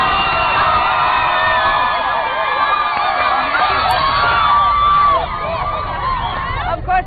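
A lively studio crowd at a Friday-night Mombasa TV party show cheers and whoops continuously, with children's shouts and overlapping voices forming a loud, dense roar that dips slightly near the end.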